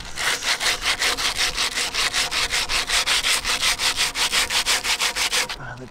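Wood being sanded by hand with cheap, crumbling sandpaper on a 42 ft catamaran mast step: steady rhythmic back-and-forth rasping strokes, close and loud, about two per second, stopping abruptly at the end.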